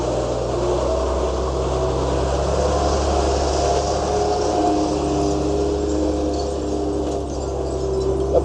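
A steady engine drone and road rumble from the back of a truck on a ride through Pakistan's Hunza Valley, continuous and fairly loud with faint wind and rattling throughout, no talk.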